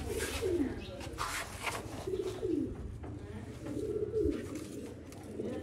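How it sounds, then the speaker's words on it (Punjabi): Pigeons coo in a repeated pattern of soft, rolling calls, three or four phrases at steady intervals, with low background noise and faint movement. "ਇਮਾਮਦੀਨ ਕਬੂਤਰ ਦੇਖੋ"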